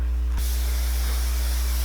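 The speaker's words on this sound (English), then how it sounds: "I'm gonna spray my heat protectant by the sections." A heat protectant spray is misted onto sectioned hair before curling, a single close hissing burst that starts sharply and sustains for over a second over a steady low electrical hum.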